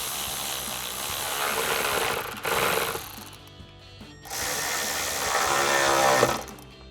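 A ratchet with an 8mm socket and extension tightening upper and lower hose clamps on a Ford F-150 EcoBoost cold air intake: two bursts of rapid close clicking ratchet strokes separated by a short pause, no talking.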